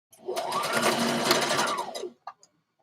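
A sewing machine stitches stretched knit fabric in one close, loud, steady run of about two seconds, ending with a couple of quick clicks.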